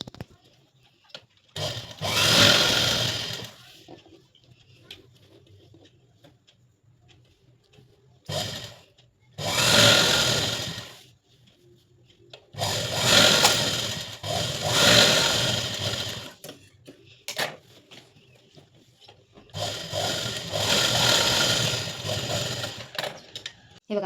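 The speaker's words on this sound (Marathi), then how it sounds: "ह्या उलट्या बाजूने टीप मारते मी बघा" A sewing machine stitching a katori blouse seam, running in several whirring bursts of a few seconds each, separated by quiet pauses, close and clear.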